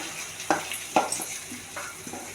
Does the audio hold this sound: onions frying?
yes